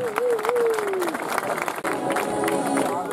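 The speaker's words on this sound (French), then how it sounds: "Moi je dirais que ce sont des applaudissements polis que vous avez offerts" Spectators at an elite women's cross-country mountain bike race in Marseille give steady, polite applause mixed with crowd murmur, with a whistle-like tone gliding over it early on.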